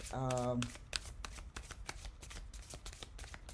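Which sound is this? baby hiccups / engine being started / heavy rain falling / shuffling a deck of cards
shuffling a deck of cards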